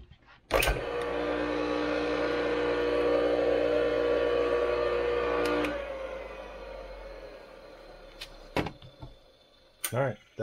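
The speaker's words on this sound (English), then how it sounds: "All right, that is the motor." An old Craftsman 100 table saw motor spins up with a sharp start, holds a loud steady whine for about five seconds, then winds down, followed by a few scattered clicks and knocks.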